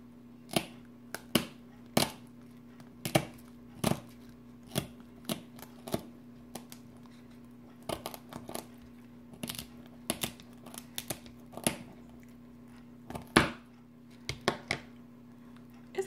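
Sharp snips of kitchen shears cutting through small snapper bones and the tail, a string of crisp close clicks at irregular intervals over a steady low hum, with no voices.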